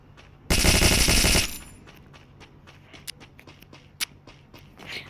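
Gunfire in the Free Fire video game: a sustained burst of rapid automatic fire up front, then lighter in-game footsteps and a couple of sharp single shots.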